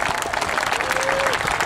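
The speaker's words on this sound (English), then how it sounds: "let's have a round of applause, please, for all the veterans in attendance" A crowd at an airshow gives a round of applause for veterans. The clapping is dense and steady, with a faint voice running underneath.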